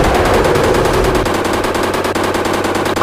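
Video game gunfire in Indian Bikes Driving: a loud, continuous burst of rapid machine-gun shots, dense and rattling from start to finish.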